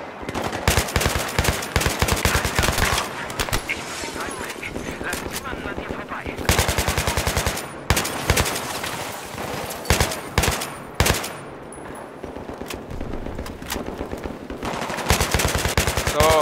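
Bursts of automatic machine gun fire in the video game Battlefield 3 rattle in long, loud volleys, broken by short pauses, with a few voices speaking faintly between the shots.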